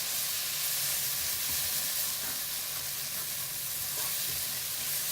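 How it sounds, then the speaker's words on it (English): Onions and masala frying in a pan, with a loud, steady sizzle and hiss and intermittent scraping from stirring throughout, close up and with no speech. "Mix it till the onions are slightly more cooked."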